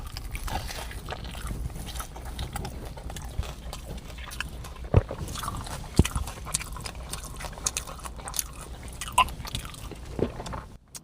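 Close crunching bites and chewing of crispy pork tacos, with a few sharper crunches standing out over a steady murmur of mouth sounds and no talking.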